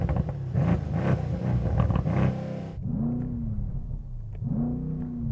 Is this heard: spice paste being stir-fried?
no